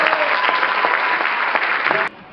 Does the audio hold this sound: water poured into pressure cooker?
no